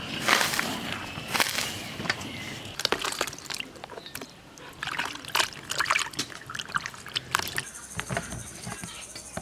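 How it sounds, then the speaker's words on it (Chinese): Blanched red and green okra, cooked about a minute in salted water, is scooped into a basin of cold water, with close splashes, trickles and clattering scoops scattered through the clip. "捞到凉水盆里。"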